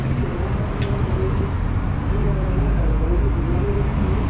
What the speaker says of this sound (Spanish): El autobús turístico de la ciudad.